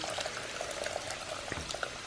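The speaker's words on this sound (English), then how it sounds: "2 cups of quinoa, that means you gotta put 4 cups of water" Water pours steadily into a pot of quinoa in a home kitchen for meal prep, giving a continuous bubbling, splashing rush at moderate, even loudness with no talk over it.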